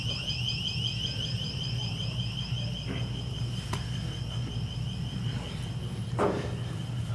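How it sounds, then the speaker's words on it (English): Door alarm going off during an arbitration hearing, a steady high-pitched electronic tone sounding continuously at moderate level, with faint room noise and a few small knocks underneath. "It was a door alarm."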